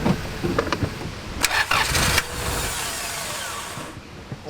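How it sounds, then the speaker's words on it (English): A Honda Civic EF with a B18C4 engine cranks and nearly catches but fails to start, a loud churning burst with a brief rising surge near the middle before settling into a steady rumble, no voices. "I'm just going to give it a quick start now to see if it will go or not."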